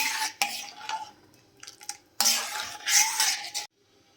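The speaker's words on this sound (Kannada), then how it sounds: "ಒಂದ್ಸಲ ಮಿಕ್ಸ್ ಮಾಡ್ಕೊಳ್ಳೋಣ ಚೆನ್ನಾಗಿ." A spoon scrapes and stirs through thick sweet corn soup in a metal pot, in a few short bursts with brief pauses between.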